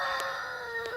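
Pet chickens cluck and call in a brief drawn-out vocalization, close and moderately loud, with no talking over it.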